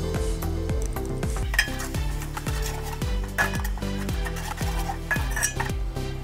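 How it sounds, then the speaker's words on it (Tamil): Shallots and tomatoes sautéing in oil in a pot for chicken biryani, a steady loud sizzle with rhythmic metal spoon scrapes and clinks against the vessel, close up and without talk. "நல்லா எண்ணெய் பிரிஞ்சு வர வரைக்கும் நல்லா வணக்கி வதக்கி எடுத்துக்கலாம்."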